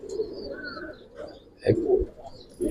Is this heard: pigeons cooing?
yes